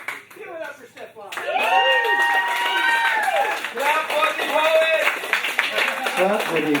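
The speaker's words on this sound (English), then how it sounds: "Give it up for Stefan." Live audience at a poetry celebration applauds and cheers a poet named Stefan, a dense wash of clapping and crowd noise swelling after a brief spoken lead-in and holding loud to the end.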